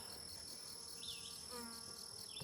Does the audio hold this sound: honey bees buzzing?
yes